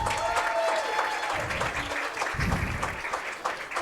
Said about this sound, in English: Ladies and gentlemen, more round of applause for Gary,